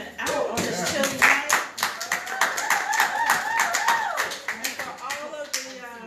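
An audience at a live event on a chilly night claps, with crisp individual hand claps close by and a voice talking over them.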